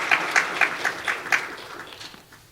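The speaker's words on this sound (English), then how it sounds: "Please give a round of applause." A small audience applauds someone speaker at a children's peace summit, with a few loud, distinct claps leading a brief rhythmic round that quickly tapers off.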